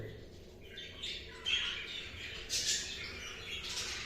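Spangle budgerigars kept in a cage chirp with faint, scattered tweets and a few louder calls, heard from a short distance in a quiet room.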